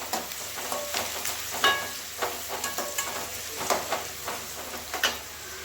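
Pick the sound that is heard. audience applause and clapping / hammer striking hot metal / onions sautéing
onions sautéing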